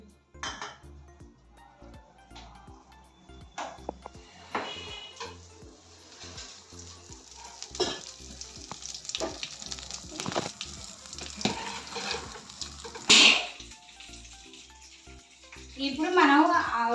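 Chopped onions fry in oil in a pan for soya chunks fried rice, a soft sizzle under frequent clanks and scrapes of a spoon against the metal, with a voice talking at times.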